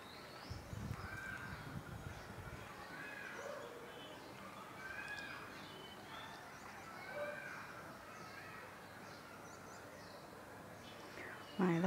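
A crow caws several times outdoors, faint and fairly distant, while a person talks quietly nearby and a dog may bark once.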